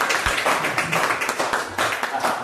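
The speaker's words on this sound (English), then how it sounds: "Clap your hand." Students in a classroom clap their hands together, a brief burst of brisk, close, uneven clapping.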